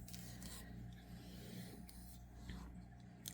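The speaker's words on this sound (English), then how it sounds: "scratch that section, that scalp, give it a good rub" Fingers rubbing and scratching the scalp between braids, a soft close rasping scrub that runs continuously at low volume.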